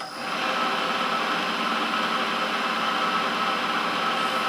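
A metal milling machine cuts at 1,000 RPM, making a constant, even whirring hiss that holds steady throughout without any talking.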